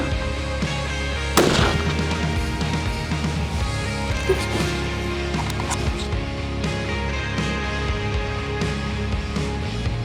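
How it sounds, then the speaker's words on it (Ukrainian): A single sharp rifle shot cracks loudly and close while a scope is being zeroed, followed by a dense, busy mix of clatter and background noise. "роблю постріл і повинен нею знову влучити"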